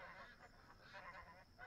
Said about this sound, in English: the ducks are quacking like crazy, folks